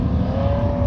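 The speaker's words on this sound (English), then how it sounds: "That's the GT3 RS that you're hearing behind me with Chad Sage behind the wheel" A GT3 RS on a race track, its engine a steady, even drone heard briefly at moderate distance.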